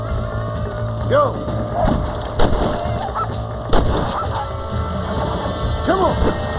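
Chickens squawk and cackle in the Red Dead video game, with several sharp, honking calls scattered over a busy in-game background that carries sharp thuds like distant shots.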